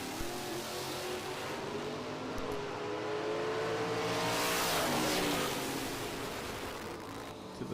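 Drag race cars launching at Maryland International Raceway, a Ford Ranger and a '94 Mustang, heard as a distant rising engine roar that swells to a loud peak and fades over a broad rushing noise.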